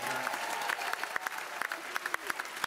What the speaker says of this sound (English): give them a huge round of applause for the Pacific Jewel